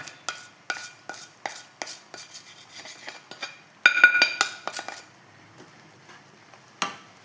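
Stirring roasted, powdered flattened rice and coconut with jaggery in a pan, heard as a series of distinct scraping clinks of a spoon against the metal, fairly close, with a louder cluster of strokes midway and a final isolated tap.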